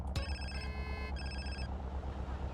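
A phone rings in the video game GTA San Andreas with a bright electronic ringtone, two short bursts of trilling tones over a low steady background hum.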